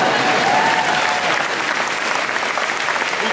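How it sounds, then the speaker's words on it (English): A large audience at a President Obama speech in Nashua, New Hampshire applauds steadily, a dense wash of clapping that holds evenly throughout. "Yeah, that's worth applauding."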